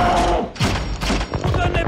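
Soldiers open fire in a film battle scene on Skull Island, a dense burst of gunfire and heavy thuds mixed with loud booms and blasts, dubbed dialogue and score running underneath.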